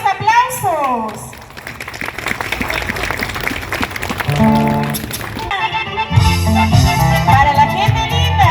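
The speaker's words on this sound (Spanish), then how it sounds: "Muchísimas gracias por esos aplausos." An audience at a live Ancash music night celebration applauds, clapping mixed with excited voices and music from the stage carrying on beneath.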